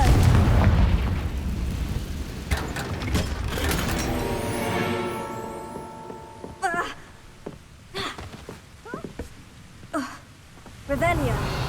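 The Confringo fire spell from Hogwarts Legacy bursts in loud, rumbling booms at the start, then gives way to shorter crackling blasts and whooshes, with gasps and spoken voices mixed in.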